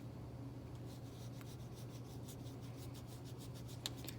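A pen is drawn steadily along a curvy line on paper, a faint, continuous scratchy rubbing with light rhythmic strokes, heard close over a low background hum.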